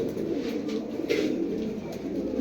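Several pigeons keep up a dense, low cooing at a pigeon seller's loft, among pairs of khaki and red birds, steady and close with no voices.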